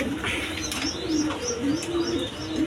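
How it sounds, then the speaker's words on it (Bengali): Red Gorra pigeons, a pair with one crested bird, coo in low, rolling, repeated phrases close by, with soft chirps layered above amid steady background noise. "গররা কবুতর"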